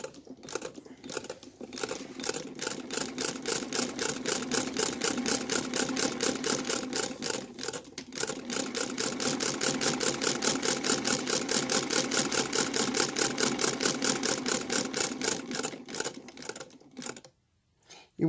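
An 1876 Domestic A treadle sewing machine running steadily, its take-up lever rocking up and down in a fast, even mechanical clatter that carries on for most of the stretch before stopping near the end.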